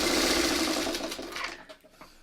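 A sewing machine runs steadily and loudly, stitching the seams of a pieced 16-patch quilt block, then slows and stops near the end.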